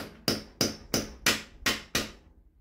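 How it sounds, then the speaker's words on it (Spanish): Six evenly spaced, sharp hammer blows drive nails into an old adobe electrical box in a wall, close and ringing, each strike decaying before the next, with no talking. "acá le estoy poniendo con clavo, con mi caja antigua, de adobe"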